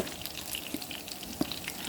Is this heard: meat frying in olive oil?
yes